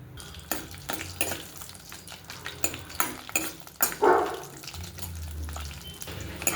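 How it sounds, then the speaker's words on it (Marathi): Dry fruits frying in ghee, with a soft sizzle under repeated spoon scrapes and clinks against the pan, close and moderately loud. "त्या तुपावरती आता हे थोडेसे ड्रायफ्रूट्स आपण तळून घेऊया"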